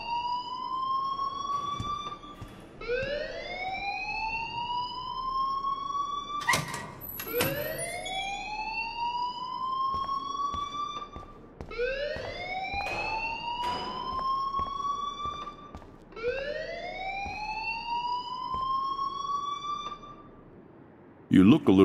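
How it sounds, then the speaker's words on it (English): A school alarm in the video game Life Is Strange rings in repeated rising electronic siren sweeps, each wail climbing and then holding steady. The cycles repeat steadily and loudly for the whole span, with brief sharp clicks between them. "please turn off that alarm since that's your job."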